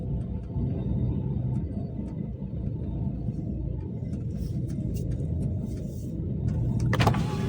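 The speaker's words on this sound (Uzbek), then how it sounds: "Mashinani joylashtirib qo'yay." A truck in France reverses into position at a loading ramp, its engine a steady low rumble throughout, with a brief mechanical clatter near the end.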